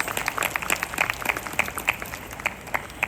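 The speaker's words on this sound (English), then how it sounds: "Give yourselves a big round of applause." A crowd at an Indian community event in Queensland gives a round of applause, with distinct individual claps standing out sharply over a steady clapping bed.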